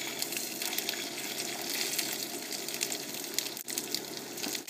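Fish seasoned with sumac is laid skin side down in a hot, oiled pan, giving a steady, even sizzling hiss that holds for several seconds with no talking.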